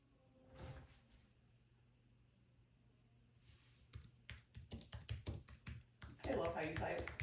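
Close computer keyboard typing that speeds into a dense burst of clacking keys toward the end, with a few quieter taps earlier and people talking nearby.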